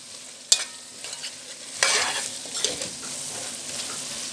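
Long beans stir-fried in a pan for a Bengali mixed vegetable dish with shrimp, a steady close sizzle broken by sharp scraping stirs and clacks of the spatula, with no voices.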